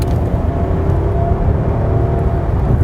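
A 2012 Rolls-Royce Ghost's V12 under acceleration, a deep, smooth rumble and whir heard from inside the cabin, steady and fairly loud with no sharp revving peaks.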